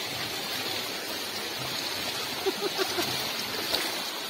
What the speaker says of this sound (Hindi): घर में पानी जा रहा है